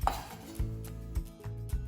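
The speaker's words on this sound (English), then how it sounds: "Let's dice that up and get that working for us too." A knife chops steadily on a cutting board, four firm evenly spaced thumps, close by with a low kitchen hum beneath.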